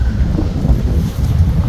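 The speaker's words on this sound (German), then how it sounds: "Ich finde es schon ganz schön krass windig." Strong stormy wind roars outdoors, a loud, steady low rumble buffeting the microphone without a break and with no speech.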